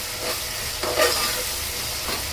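Green chilli and garlic sauté in hot oil in a home kitchen. A close, steady sizzle and hiss fills the moment, punctuated by a couple of brief stirring scrapes and no talk.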